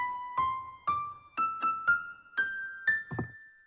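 Quiet piano-like playback from MuseScore notation software steps upward through seven notes an octave higher than before, each note attacking cleanly and decaying, with no voices present.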